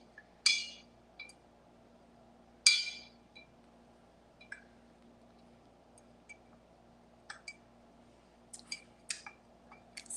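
Metal spoon clinking against a glass jar while stirring honey, a few sharp separate taps and scrapes spread over quiet, faint low hum beneath.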